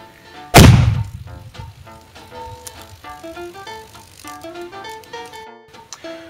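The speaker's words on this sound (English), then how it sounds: "you can use a gherkin to ignite a hydrogen and oxygen balloon" A hydrogen-oxygen balloon ignited by a pickled gherkin explodes in a single sharp, loud bang that decays quickly, followed by a ringing, echoing tail of tonal reverberation.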